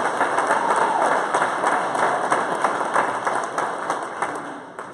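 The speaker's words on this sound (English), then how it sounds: "let's give a round of applause this evening for the A.R. Mitchell Museum and the staff" An indoor audience at an evening celebration at the A.R. Mitchell Museum claps steadily in a dense round of applause that tapers off toward the end, with no voices over it.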